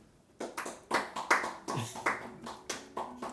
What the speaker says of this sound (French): Dans la pièce par applaudissement, qui pense sincèrement être un bon coup?